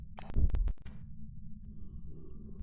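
A heartbeat thumps in the ghost-hunting video game Phasmophobia, a couple of heavy low thuds up front followed by a quieter sustained throb and faint hum.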